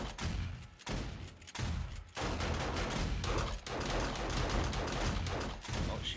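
In a survival video game, automated turrets fire at an attacking horde on horde night. The shots come as dense, rapid bursts of gunfire, loud and nearly continuous, with brief pauses between volleys.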